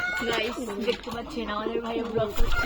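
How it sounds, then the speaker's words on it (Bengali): Young pigeons coo in soft, repeated rolling calls close by, a steady warbling murmur with a few rustles. "এই যে দেখেন আমাদের কবুতরের বাচ্চাগুলো অনেক বড় হয়ে গেছে।"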